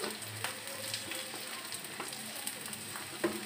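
Taro paste sizzles and crackles steadily in a hot frying pan, a close, continuous hiss dotted with sharp little pops, with no voices.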